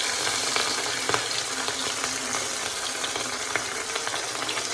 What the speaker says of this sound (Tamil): நல்லா வந்து எண்ணெய் காஞ்சிருச்சு. காஞ்ச உடனே மீனை போட்டுற வேண்டி தான்.